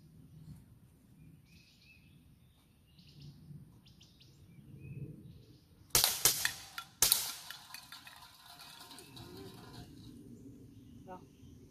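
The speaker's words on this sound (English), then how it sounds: "So I'm going to shoot some cans here" A Gamo MP9 air pistol fires at cans outdoors, two sharp cracks about a second apart, each followed by a metallic ping and rattle, set against faint birdsong and insect chirps.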